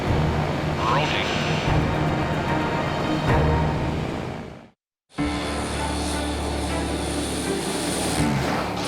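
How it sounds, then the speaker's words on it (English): Buffalo Airways' newly repaired Lockheed Electra propeller airliner on a test flight, a loud sustained engine drone and rumble close by, cutting out briefly in the middle before resuming just as strongly. "Buffalo Airways' newly repaired Electra returns from a test flight and pilot assessment."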